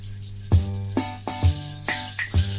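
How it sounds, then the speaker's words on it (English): Omnichord playing, a soft electronic chord pad with plucked, harp-like strums and a steady low bass pulse, gentle and close, with faint tinkling at the top. "That's the sound of the omnichord."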